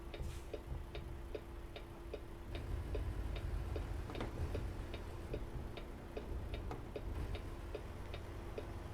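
Truck hazard lights ticking in the video game American Truck Simulator, a regular evenly spaced clicking over a low engine hum, fairly quiet with no speech.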